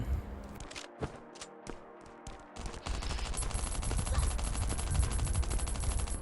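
Gunfire in the survival shooter Last Island of Survival: a few sharp separate shots at first, then continuous loud rapid automatic fire hammering close by, a voice briefly heard.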